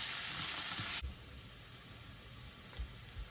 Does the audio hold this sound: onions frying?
yes